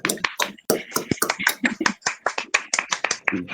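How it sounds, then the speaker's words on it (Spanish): Irregular hand claps ring out close by, a small group clapping briskly for a few seconds at an award ceremony. "Recibimos virtualmente a Franklin con un fuerte aplauso"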